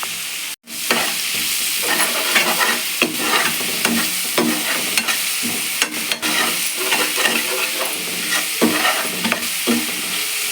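Onions with a little salt sauté over low heat in a pan for chicken gravy, giving a loud continuous sizzle with frequent scraping stir strokes throughout, close up and with no one talking.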